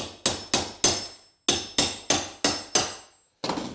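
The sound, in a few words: hammering shower tiles off the wall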